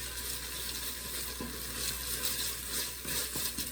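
Ingredients for a curry, lime and sweet potato soup toast in a hot pan with a steady, close sizzle, broken by a few soft scrapes and knocks of a utensil stirring them around.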